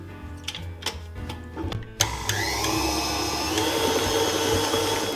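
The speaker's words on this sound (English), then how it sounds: "We're going to beat these together until they're nice and smooth and all of the sugar has dissolved." An electric mixer beats cream cheese and sugar: a few clicks and knocks, then the motor starts and runs as a steady whirring drone, close by.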